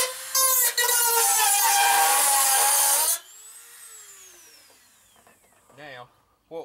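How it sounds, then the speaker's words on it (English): Gutter trimmed with a Dremel-type cutoff wheel for a rain catchment build: a loud, steady abrasive grinding whine runs for about three seconds, then stops, leaving a fading spin-down and a brief voice near the end. "I'm gonna finish trimming this out right here on my cutter."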